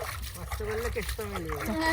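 Water splashes and trickles as meat is washed outdoors on a riverbank during a New Year picnic, with children and adults talking loudly over the steady splashing.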